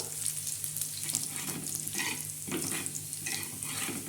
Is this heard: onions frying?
yes